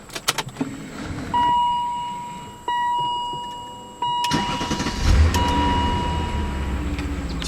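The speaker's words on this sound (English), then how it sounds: "Why don't we start it up and take a listen to one of these with 225" A BMW E39 M5 is started up: a few clicks and key rattles, then the starter cranks and the engine catches into a close, steady idle with a whine on top.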